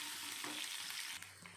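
Chopped large onions sizzle and fry steadily in a hot pan, a close, continuous crackling hiss with no talking.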